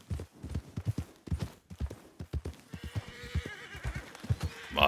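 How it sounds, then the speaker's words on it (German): Horse hooves clip-clop in Red Dead Redemption 2, a rhythmic run of close, clear hoofbeats with a brief whinny-like tone, then a busier tangle of game sound toward the end. "das war das Pferdegetrappel"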